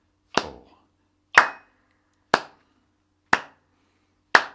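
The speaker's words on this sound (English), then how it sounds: "Now keep the clapping going at the same speed" Five sharp hand claps ring out alone at a steady, even beat about one second apart, each crisp and close with a short decay into silence, during a music warm-up.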